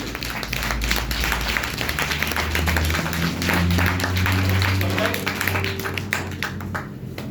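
An audience clapping hands together in unison during an interactive classroom session, a steady run of dense, fairly loud claps over a low hum, with a few voices faintly beneath.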